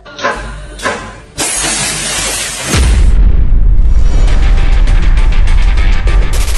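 A gas stove in use for cooking bursts apart in a small explosion, a sharp loud boom with a couple of pops before it, followed by a harsh roaring hiss.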